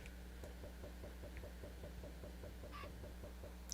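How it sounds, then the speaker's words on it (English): Chickens clucking in a video game right after hatching from thrown eggs: faint, quick, evenly repeated clucks over a steady low background hum, with no talking. "and let's spawn some chickens."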